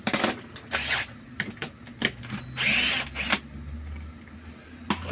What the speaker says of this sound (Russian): 3 болта откручиваем. Бита Т25. Откручиваем стартер.